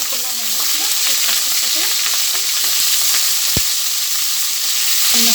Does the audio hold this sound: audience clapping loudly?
no